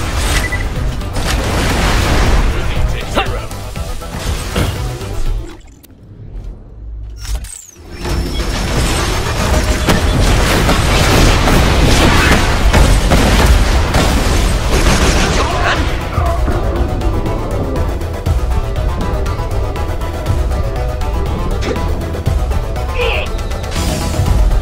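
Loud, dense barrage of booming missile and rocket explosions in the shooter game Borderlands: The Pre-Sequel, with a brief lull partway before the blasts resume and continue heavily.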